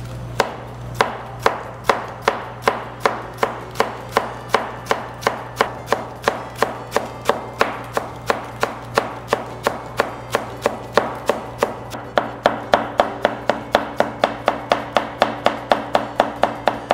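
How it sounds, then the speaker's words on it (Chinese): A knife chops cabbage into fine shreds on a cutting board in a home kitchen, giving a fast, steady run of crisp, evenly spaced cuts that gradually quicken, close and clear, with no talking. "切高丽菜丝。"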